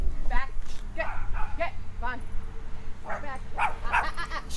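Several dogs barking and yipping in short repeated bursts close by, confronting a meter reader at a gate, with steady background noise and some speech underneath.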